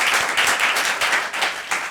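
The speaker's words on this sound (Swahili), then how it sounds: "Wapi makofi ya David Ogot." A studio audience on a talk show applauds guest David Ogot, a dense, steady wash of many hands clapping together for about two seconds, with no talking over it.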